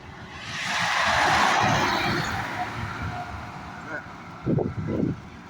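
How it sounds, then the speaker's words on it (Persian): A tractor passes by on a forest walk: a broad rumbling noise swells over a couple of seconds and then fades, followed by a few brief voices close by. "تراکتور رد میشه"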